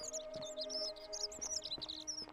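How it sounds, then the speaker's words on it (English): In The Forgotten City video game, a bird chirps close by in quick, high, repeated tweets over a steady tonal ambient hum. "Sounds like that bird is inside of my ear."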